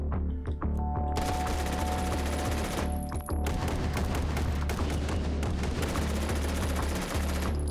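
Gunfire from pistols in the VR shooter Hot Dogs, Horseshoes & Hand Grenades, Take & Hold mode: dense, continuous rapid shots and booming reports, loud and close, running almost without pause and with no voices.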